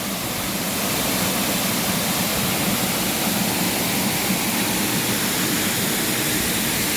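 The La Victoria waterfall roars at full force in a dense, constant rush of water that fills the whole stretch without pause, loud and close, with no voices.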